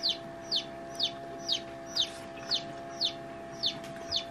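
A newly hatched chick gives a steady series of high, bright cheeps, roughly two per second, close and clear over a quiet background hum.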